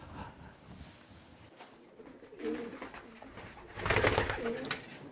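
Pigeons in a 17th-century dovecote in France cooing softly in short throaty phrases, one nearby call rising clearly midway and another fuller burst near the end, over quiet indoor background.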